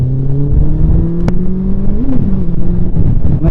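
A 2015 Honda CBF1000 GT motorcycle engine pulls under acceleration with a steady, loud drone and a slight rise in pitch, heard from the rider's position.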